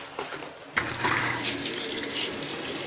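Consul Maré washing machine filling with water, a steady rushing and splashing flow that starts with a sudden surge and then holds on, close by.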